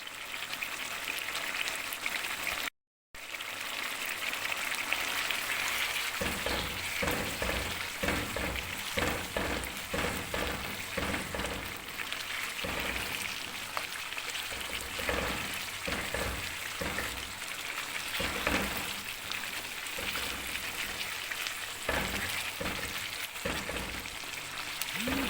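Mutton fries in a karahi with a steady, close sizzle and crackle running almost throughout, broken by stirring scrapes and a brief dropout near the start.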